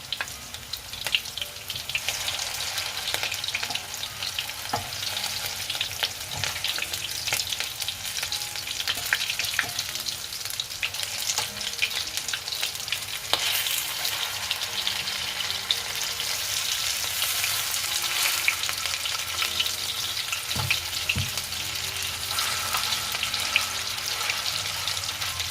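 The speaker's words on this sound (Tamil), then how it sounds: "ஒரு பக்கம் பொரிஞ்சிருக்கும், மற்ற பக்கம் திருப்பி விடலாம்." Beef vadai deep-frying in hot oil, a steady close sizzle and bubbling that runs without pause, with faint occasional clinks and stirring.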